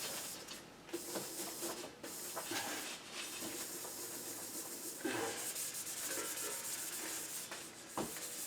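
Steady, close rubbing hiss of ultra fine grit abrasive sanding and polishing metal, continuous and fairly soft with faint scraping variations throughout, no voices.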